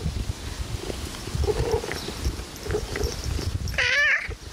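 A house cat gives a single short meow near the end, following soft low rumbling and rustling, close by and fairly quiet.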